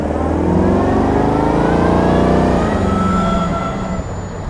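A hot rod car engine drones loudly and close while driving, with its pitch rising steadily under acceleration, then easing as it settles.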